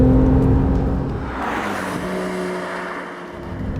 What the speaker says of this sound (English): Laying into the throttle brings instant thrust and great noises from the sport exhaust system